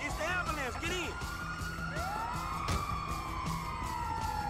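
Ambulance siren in the video game GTA V, a wailing, sweeping siren close by and sustained with short whoops, under someone talking.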